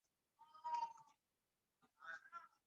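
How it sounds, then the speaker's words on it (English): A female cat meows while carrying her toy in a quiet room: a drawn-out meow, a pause, then two shorter meows close together, close and clear. "she has to meow when she carries her toy"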